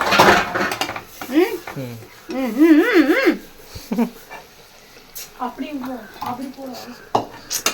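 Metal clatter of stirring suvarotti in a cooking pot for a Tamil-style lunch, with scraping and clinks of a utensil against the pot mixed under steady talk throughout.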